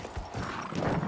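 Horse hooves clip-clop in Battlefield 1 as the horse moves through the trenches, a quick run of hoofbeats under loud, dense battle noise.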